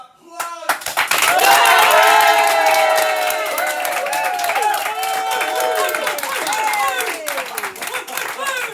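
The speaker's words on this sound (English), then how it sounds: "round of applause." A studio audience bursts into loud, sustained applause with cheering and whistles, the clapping swelling quickly and holding steady to the end.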